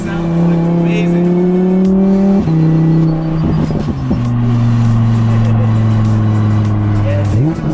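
Lamborghini Huracan with a double-clutch gearbox, engine droning loudly from inside the car while driving, holding steady pitch with quick drops between gear shifts, under occasional talk.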